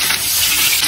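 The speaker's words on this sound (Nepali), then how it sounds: "मसाला प्याज फ्राई गर्छु" Masala onions fry in hot oil in a pan, giving a brief, loud, steady sizzling hiss with no talking.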